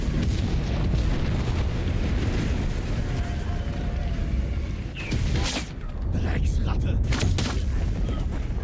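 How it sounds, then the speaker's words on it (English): Artillery strike explosions in the video game Enlisted rumble as loud, continuous booming. Sharper blasts break through around the fifth and seventh seconds, and a voice speaks briefly. "Or die to an artillery strike."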